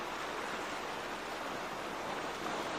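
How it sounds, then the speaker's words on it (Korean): Ocean waves crashing at the foot of a steep rock cliff on a coastal walking path in Changwon, a steady, dense roar of surf heard up close and alone. "깎아 지른 듯한 암벽 아래 저먼 바다에서부터 달려온 파도가 제한 몸을 희생해내는 그 소리"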